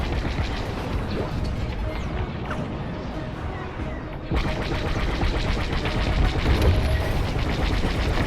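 Explosion of a destroyed dish installation in Star Wars: Squadrons, a loud crashing burst amid a roaring, crackling wash of combat noise that swells again midway, with a voice briefly speaking over it.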